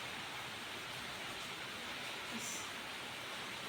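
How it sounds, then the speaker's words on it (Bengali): Rain falling outside, a steady soft hiss of drops heard faintly from indoors, continuous and even with no other sounds. "বাইরে বৃষ্টি হচ্ছে এই যে কিছু দেখতে হবে না শুধু জাস্ট আওয়াজ শোনো"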